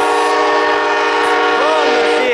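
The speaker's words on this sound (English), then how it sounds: "And there goes Amtrak 79," An Amtrak passenger train runs southbound past Selma, a loud continuous rumble with steady tonal horn-like lines, close and strong for the whole stretch.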